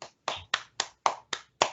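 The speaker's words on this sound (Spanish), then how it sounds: "Aplausos." Seven crisp handclaps come at a steady, even pace, close and dry with silence between each one, like a single person clapping along.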